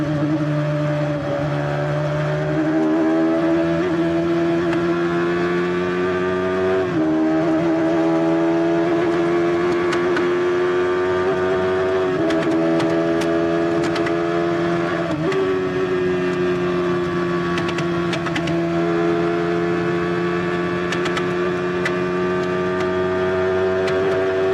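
Formula 1 race cars at the 1990 Mexico Grand Prix scream past continuously, high-pitched engines rising and falling through gear changes for the whole stretch, loud and close with no talk.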